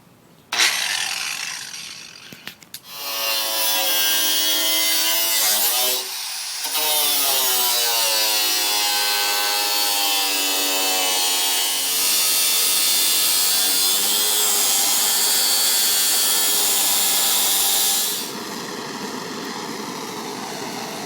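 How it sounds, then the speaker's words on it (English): An angle grinder cuts through rusted body metal on a 1966 Ford Mustang under restoration, spinning up and then holding a loud, steady, harsh whine for about fifteen seconds before winding down. "So now what we're going to do is use this grinder to make that cut."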